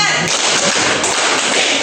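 Loud, dense group clapping from a class playing a numbered clapping game, continuous and close, mixed with voices.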